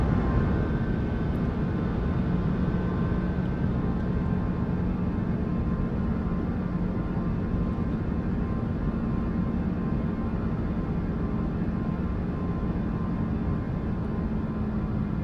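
Lufthansa Airbus A340-300 taking off from Frankfurt and climbing in Microsoft Flight Simulator 2024, its four engines a steady, loud, broadband roar with a low droning hum that stays constant and unbroken, with no voices.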